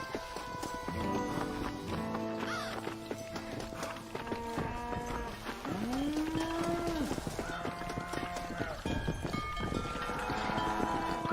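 Cattle in the Western video game Red Dead Redemption low and moo several times over a busy game soundscape, with horse hooves clip-clopping and other farm animals nearby, moderately loud.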